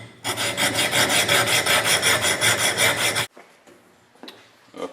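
An axe edge is sharpened with an 80 grit abrasive in a fast, steady series of close rasping strokes lasting about three seconds. Faint handling sounds follow once the strokes stop.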